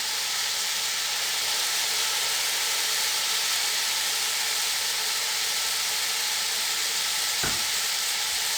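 Soy sauce sizzling in a hot pan while cooking chicken vegetable macaroni, a steady close hiss and crackle throughout with no talk.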